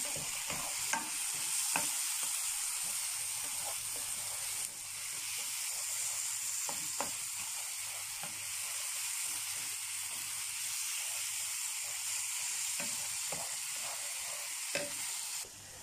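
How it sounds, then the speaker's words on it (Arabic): Food fries in a pan for a quick breakfast and is stirred now and then. A continuous close sizzle and hiss runs throughout, broken by faint scraping stir strokes, with no talking. "هنقلب تاني نستمر في التقليب"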